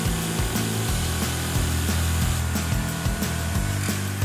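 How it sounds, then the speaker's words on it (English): A power saw cuts through 2x4 lumber for the top and bottom rails of a wooden fence gate frame, a steady, loud, continuous whine with repeated pitch dips across the cut, heard alone without voices. "Cut 2x4s the length of the opening in your fence to form the top and bottom rails."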